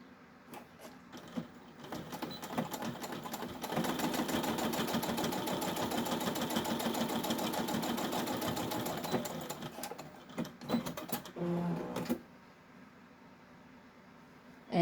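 A sewing machine runs in a long steady burst stitching fabric for a bowl koozie, preceded and followed by short stop-start runs and faint handling, then falls quiet near the end.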